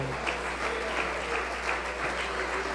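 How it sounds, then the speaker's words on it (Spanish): A church congregation applauding during a sermon: continuous, even clapping from many people, heard a little distant and moderately loud throughout. "¿qué cuento de aplausos para mí? Yo no necesito aplausos."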